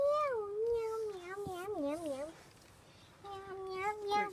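A voice imitates a cat meowing, giving a run of drawn-out, wavering meows close up with a short pause before more.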